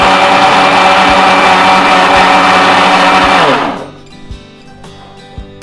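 Electric mixer grinder whirring loudly as custard cake batter is blended at home, a steady high-pitched motor drone that winds down and stops, leaving faint clinks and a quiet room.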